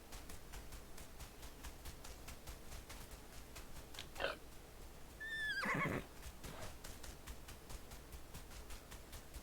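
A horse in a video game whinnies once in a short burst and then gives a longer, louder neigh, both standing out over a faint, steady background hum.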